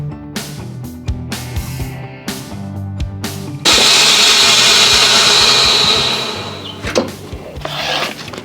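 A VacMaster VP230 chamber vacuum sealer runs with a loud, steady motor hum and hiss for about three seconds, then winds down, with clicks and handling noises before and after.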